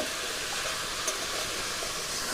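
Taro pieces seasoned with salt and turmeric fry on a low-medium flame, giving a steady, soft broadband sizzle that stays even throughout with no talk.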